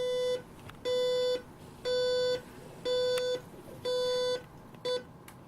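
An alarm clock going off with a repeating electronic beep, five evenly spaced half-second tones about once a second, then a short final beep, loud and close in a quiet room.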